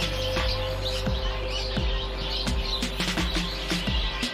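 Small prince birds chirp and tweet in short repeated calls at a bird market in Dhaka, heard over a constant low background hum.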